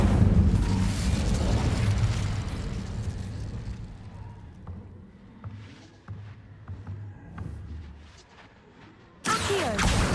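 Incendio fire spell cast in Hogwarts Legacy, a loud fiery burst with rumbling crackle fading over several seconds, followed by quieter scattered clicks and pops, then a sudden bright whoosh near the end.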